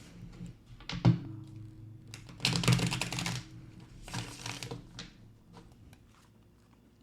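Tarot cards shuffled in quick bursts of papery riffling and tapping, with a brief thump near the start and two louder shuffling passes in the middle, close and fairly quiet with no talking.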